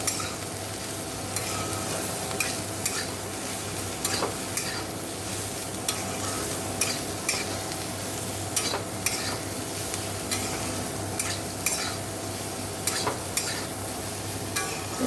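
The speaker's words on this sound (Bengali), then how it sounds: "তো চলো ভেজে নিই, ভাজা করে দেখাচ্ছি" Sliced bitter gourd fries in a kadai with a steady, close sizzle, broken by repeated scraping strokes of a spatula as it is stirred. No voices.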